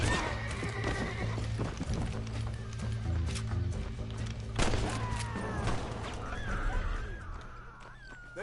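Horse neighing in a Wild West setting, a rising and falling whinny near the middle followed by more whinnies, with hoof clip-clops and rustling around them at moderate distance.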